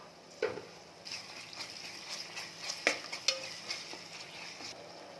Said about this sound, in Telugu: కొంచెం సాల్ట్ వేసుకుంటున్నా, ఆనియన్ ఫ్రై తొందరగా ఫాస్ట్గా అవుతాయి